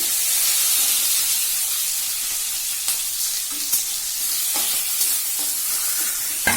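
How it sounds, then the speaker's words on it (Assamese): Green chillies, onion and bay leaves fry in hot oil, giving a steady close sizzle and hiss with occasional stirring clicks against the pan. "দুটা তিনিটা জলকীয়া দি দিছোঁ, পিঁয়াজ দি দিছোঁ আৰু ইয়াতে দিছোঁ মই তেজপাত দুটা। এইখিনি ফ্ৰাই কৰি ল'ম।"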